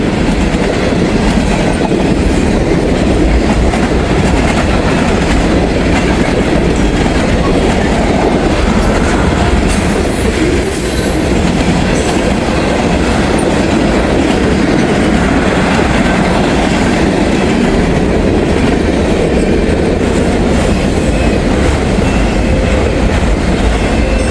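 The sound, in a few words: long freight train with auto racks rumbling past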